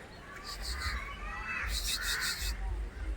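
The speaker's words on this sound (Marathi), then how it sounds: "गावाकडचे कावळे" Several crows caw in two bursts at a zoo in Surat, harsh repeated calls over a steady low rumble of background noise.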